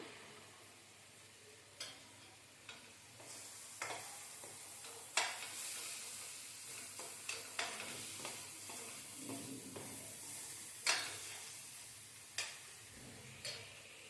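Green chillies fry in hot oil in a pan for a fish curry, a faint continuous sizzle broken by scattered sharp pops and occasional scraping stirs, heard without speech.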